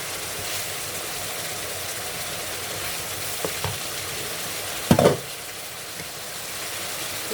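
Fish gravy simmers in a pan, a steady sizzle beneath occasional soft scrapes and one brief louder clatter as it is stirred, with no voices.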